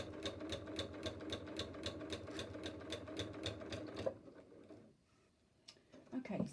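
A sewing machine stitches quilt sashing onto quilted blocks in a fast, even run of mechanical needle clicks for about four seconds, then stops, leaving a few faint handling sounds near the end.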